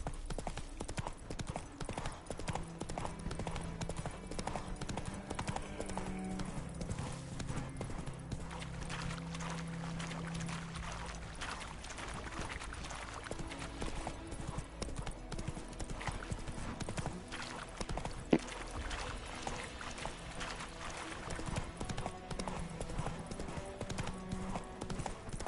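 Horse hooves gallop in The Witcher 3 next-gen in a steady, fast clip-clop rhythm that runs the whole time at moderate loudness. There is one brief sharp knock partway through.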